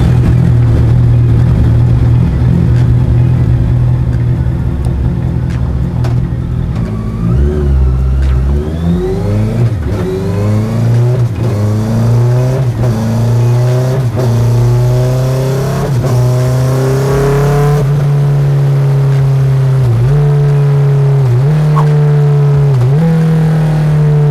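Honda CBR650R E-Clutch motorcycle engine, flash-tuned, revving hard on a stand: a loud steady idle rises through repeated climbing revs and gear changes, then settles back to a high drone with a few sharp blips.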